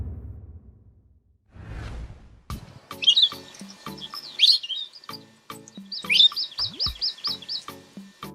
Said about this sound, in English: The Palila, Loxioides bayoi, is a critically endangered finch-billed bird endemic to the Hawaiian Islands